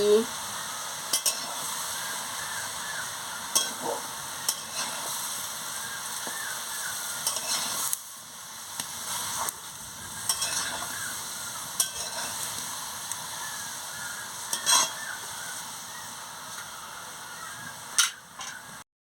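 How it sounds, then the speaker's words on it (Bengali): Onion frying in a pan with turmeric, salt and chili powder, stirred as it cooks: a continuous sizzle broken by repeated scraping strokes of a spatula at irregular intervals, with no talking. "পেঁয়াজটাকে কষিয়ে নিচ্ছি"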